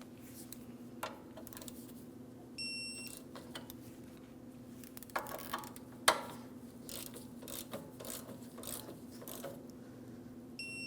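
A ratcheting wrench tightens the 17mm mounting nuts during front brake dust shield work on a 2003–2008 Toyota Matrix, with faint clicking and a few sharp metallic knocks over a low steady hum.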